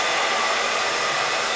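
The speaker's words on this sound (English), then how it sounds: "And then I take the blow dryer." A hair blow dryer runs steadily at close range, a loud continuous whooshing hum used to dry and style hair for a voluminous blowout.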